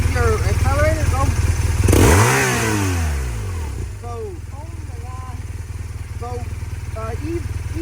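A motorcycle engine idles and revs up and down during a beginner's riding lesson, with a steady mid-pitched drone and a swelling rev, while an instructor talks over it nearby.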